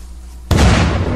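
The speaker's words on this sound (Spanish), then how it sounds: "No, va a explotar este, güey." A car blows up in the video game Unturned, with a sudden loud blast halfway through followed by a sustained roaring burst.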